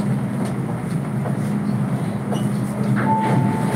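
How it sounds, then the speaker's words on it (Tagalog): Riding inside a train in Hong Kong brings a loud, steady rumble of the rail car with low hum and faint rhythmic clicks of the wheels, and nobody speaks. "Nasa loob na ako ng train."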